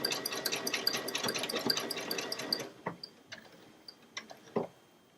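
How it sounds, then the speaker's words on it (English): A Baby Lock Solaris 2 embroidery machine stitching a Christmas wall hanging design: a fast, even rattling hum of stitching that stops partway, followed by a few scattered clicks and taps nearby. "We're going to start the button again to start up the stitch formation, and then we're going to go till it stops again."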